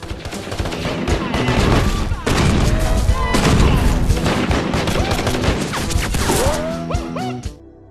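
An action film scene of shooting practice has dense, rapid gunfire bursts layered over loud score and effects, continuous and heavy, with ringing metallic tones near the end before an abrupt stop.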